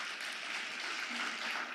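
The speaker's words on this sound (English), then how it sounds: "Please give these guys an amazing round of applause." Audience applause at a talk about a Bitcoin company, a brief, fairly faint, dense wash of clapping from the crowd.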